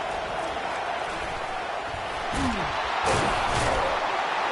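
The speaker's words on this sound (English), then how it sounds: "And here comes the noise. This crowd is trying to inspire this defense to make a big red zone stop." Football stadium crowd roaring during a red zone defensive stand, a broad steady wash of noise that swells louder toward the end, with a commentator talking over it.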